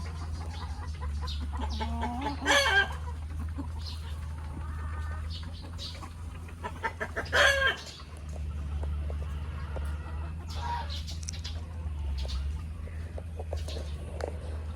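Chickens on a small poultry farm cluck over a steady low hum, with two louder bursts of calling standing out and scattered softer clucks between.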